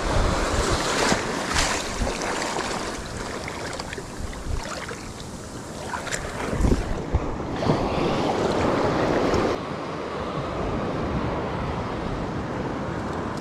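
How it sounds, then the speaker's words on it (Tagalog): Strong ocean waves slosh and surge around a small fishing boat at sea, with gusting wind buffeting the microphone and the loudness shifting as the water swells; no one speaks. "Pero malalakas ang alon."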